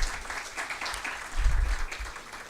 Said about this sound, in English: a round of applause for Mr. Simon, please.